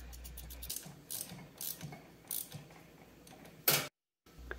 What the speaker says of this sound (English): Just making sure we got our insulators right and tightening up the plate.